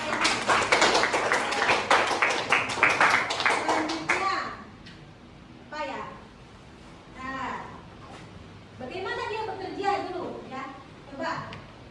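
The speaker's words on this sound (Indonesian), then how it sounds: "Oke, tepuk tangan" Children in a classroom clap their hands together in a loud, rapid burst of many overlapping claps lasting about four seconds, then stop as a teacher and children talk.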